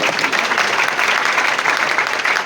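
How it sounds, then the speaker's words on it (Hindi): Loud, dense applause from an audience at an award ceremony honouring Bihar's top students, a continuous wash of many hands clapping together for a couple of seconds with no talk. "एक बार जोरदार तालियां बजाइए प्लीज"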